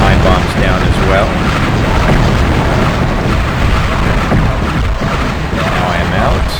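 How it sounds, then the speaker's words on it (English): Time bombs exploding in the video game Heretic, a loud, dense wash of booming blasts and rumbling chaos that continues without letup, with heavy low-end roar throughout. "I'm going to throw some time bombs down as well"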